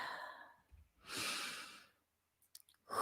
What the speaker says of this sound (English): Taking a deep breath into your belly